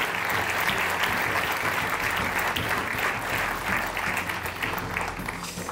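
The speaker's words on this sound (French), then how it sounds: "On les applaudit très fort tous les 4." Dense, sustained applause from an audience at a professional award ceremony, a loud, continuous wash of clapping that holds steady throughout.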